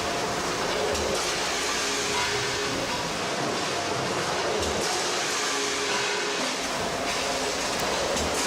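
A 1,000-ton power press fitted with a progressive die for making trailer hitches runs in a factory, giving a dense, steady, loud mechanical roar with no clear pauses.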